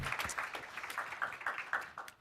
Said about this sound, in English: Round of applause to David.